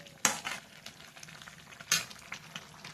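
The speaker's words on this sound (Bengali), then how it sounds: "সয়াবিনের তরকারি বসাইছি" Soybean curry cooking in a pan, a quiet steady sizzle broken by two sharp scraping stirs with a spoon, close and fairly faint.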